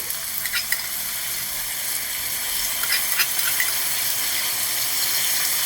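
Fresh garlic sizzles in a hot pan, a steady frying hiss with brief crackles and stirring scrapes, close and fairly loud, with no talking.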